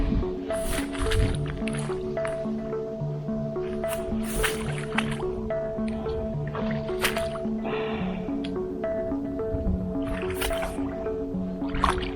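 Water sloshes and squishes with irregular splashing steps and drips, close by, as someone in new chest waders wades through shallow water on a fishing trip.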